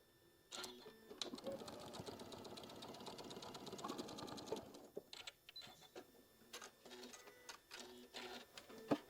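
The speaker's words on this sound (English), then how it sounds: "Sewing machine didn't catch that at the beginning." A sewing machine stitches in a fast, steady mechanical run for a few seconds, then stops, followed by scattered clicks and handling noises nearby.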